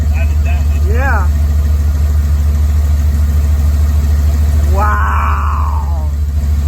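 An old first car that had sat unused runs steadily at idle, a loud continuous low engine rumble throughout, with voices talking over it.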